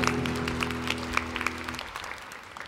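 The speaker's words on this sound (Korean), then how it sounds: "큰 박수로 하나님께 영광을 올려드리겠습니다" A church congregation claps together in warm, steady applause, with a sustained organ or keyboard chord underneath that cuts off partway through, leaving the clapping to fade on its own.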